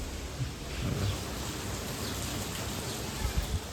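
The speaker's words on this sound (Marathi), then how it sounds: "पावसाने पुन्हा एकदा झेंगरी घेतलेली" Steady rain patters and hisses all around, an even wash of noise with occasional louder drops nearby.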